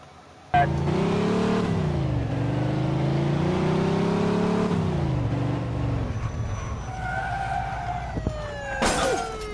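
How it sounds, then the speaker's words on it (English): Speeding car in a Mafia 2 police pursuit: a loud, steady engine roar with rising and falling revs for several seconds, then fading engine noise with a faint siren-like wail and a sharp crash burst near the end. "Pursuit of a speeding vehicle."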